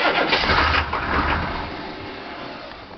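A car engine running on low-capacity NASCAR batteries cranks and catches, a loud steady roar that gradually settles toward an idle, ending with a brief sharp knock.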